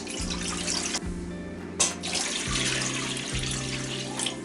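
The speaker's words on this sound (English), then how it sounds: "I'm going to add 2 cups of water" Water poured from a tap into a pressure cooker while cooking oxtail: a steady rushing stream over a low background hum, close and continuous with no talk.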